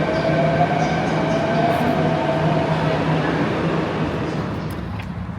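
A Beijing metro train rumbles steadily at close range with a loud, even roar and faint tonal hum, gradually easing off toward the end.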